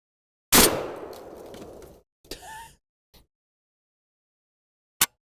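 A Tokarev TBP12 shotgun fires its first rounds: a loud, close blast with a long ringing tail, followed by a shorter mechanical clatter and a faint click, then another sharp brief report near the end.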